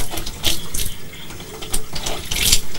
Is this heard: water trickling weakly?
yes